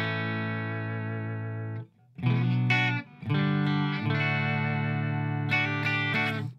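A clean electric guitar tone through a Line6 Floor Pod plays sustained chords, first a long ringing one, then a few more after short breaks, loud and close with no voices.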